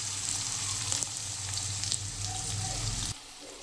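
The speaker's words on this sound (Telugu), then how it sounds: "తర్వాత ఇందులోనే వెల్లుల్లి దంచుకున్నాను ఫ్రెండ్స్ రోట్లో, వాటిని వేసుకొని ఫ్రై చేసుకోవాలి." Garlic crushed in a mortar fries in a pan with a loud, continuous close-up sizzle and crackle, cutting off abruptly just before the end.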